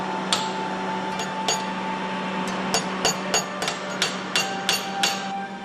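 A smith hammers a small piece of red-hot iron into a dragon shape, sharp ringing metallic blows landing at an uneven pace, some in quick pairs, over a steady hum of forge or workshop noise.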